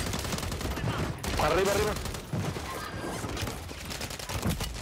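Gunfire in Call of Duty MW3 Warzone, scattered shots and bursts under a busy game mix, with a voice calling out briefly partway through.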